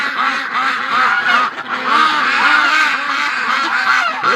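Muscovy ducks call loudly and continuously, a close, dense chorus of overlapping raspy honks and quacks with no voices.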